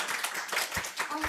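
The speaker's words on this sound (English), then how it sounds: "Let's give an applause once again for your team." Audience applause at a business process management showcase, a brief burst of clapping from a group heard under a speaking voice.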